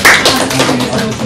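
Students in a calculus classroom clap in a short burst of close, overlapping hand claps, with a faint voice mixed in.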